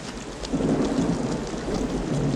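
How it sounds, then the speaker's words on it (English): Steady heavy rain with low rumbling thunder in a Western film scene, a continuous loud wash that swells slightly after the first half second, with no voices. "I know it's raining."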